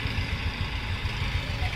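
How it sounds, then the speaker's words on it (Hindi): Tractor engine running at a farm field near Jaipur during morning ploughing, a steady low rumbling idle with throbbing pulses, close and continuous throughout. "जयपुर साइड में कुछ ऐसे ट्रैक्टर होता है"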